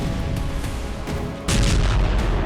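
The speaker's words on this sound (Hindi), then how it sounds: "जबरदस्त धमाके का यह वीडियो पश्चिमी डोनेस्क का है, जहां रूस ने यूक्रेन का एक हथियार डिपो तबाह कर दिया।" A huge explosion destroys a weapons depot in western Donetsk, heard as a loud, sustained roar of blast noise that swells sharply midway into a heavier, deeper rumble, with no voices.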